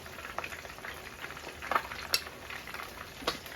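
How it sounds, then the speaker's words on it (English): Garlic fries in a pan with a faint, steady sizzle and scattered small crackles and pops, heard close up without talk. "When you fry the garlic, take them out before them burn"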